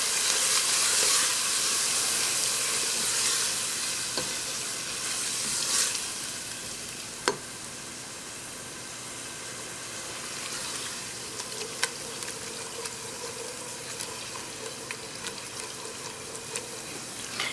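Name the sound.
tomatoes sautéing in a pan for coconut curry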